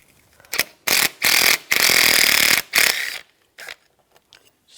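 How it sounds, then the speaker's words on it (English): A ratchet turns a 10mm socket to loosen a bolt on a 2004-2009 Toyota Prius during radiator and condenser fan work. It gives several loud, close bursts of rapid clicking, then a few short, fainter clicks. "Take this bolt out, use a 10mm socket."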